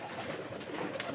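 Pigeons cooing in a loft, a steady low murmur of soft coos close by under broad hissy background noise, with no talking.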